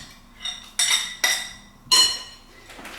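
Spoon clinking against a bowl while yogurt and liquid ingredients are stirred for hot dog bun batter, several sharp bright knocks at uneven intervals over a quiet background.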